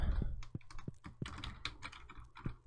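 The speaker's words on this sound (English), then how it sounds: "Sorry for my excessive keyboard clicking." Computer keyboard clicking during a relaxed Stardew Valley gaming session, a quick irregular run of close, crisp key taps with no talking.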